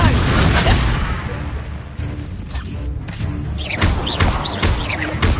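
Confringo fire spell blasting in Hogwarts Legacy, loud booming impacts and crackling bursts amid dense combat noise, with several quick hits in succession.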